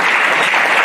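Loud, dense applause and acclaim from a church congregation welcoming a deacon, a brief close burst of continuous clapping.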